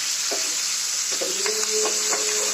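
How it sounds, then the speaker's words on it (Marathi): Ridge gourd sizzles in hot oil under a constant frying hiss, with a utensil scraping and clinking against the pan a few times. "ह्याच्यामध्ये दोडका चांगला शिजवून घेते परतून घेते तेलामध्ये"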